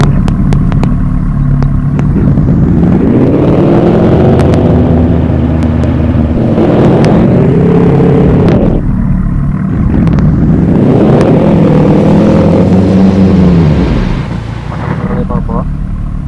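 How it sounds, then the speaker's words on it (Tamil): In the Euro Truck Simulator 2 game, an old car's engine revs up and pulls away, rising and falling in pitch over two long acceleration sweeps, loud and close, with sharp clicks over the top. "இப்போ அவர் வண்டி எடுத்துகிட்டு போவார்"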